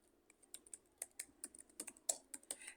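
A computer keyboard is typed on up close as an email address is entered, giving a quick irregular run of sharp, light key clicks with a few louder taps, alone and without speech.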